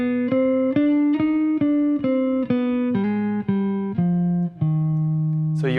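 A clean jazz guitar plays a descending run through the third mode of the harmonic minor scale, with a dozen or so distinct plucked notes in a steady rhythm, close and clear, and no one speaking.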